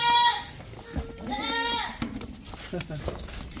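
A goat bleats loudly and nearby at a farm goat sale, with one long wavering call followed by a second, while people talk over and between the calls.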